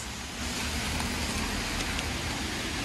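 Steady rain falls across a New York City street, a dense, even hiss of drops that stays loud and constant throughout with no voices.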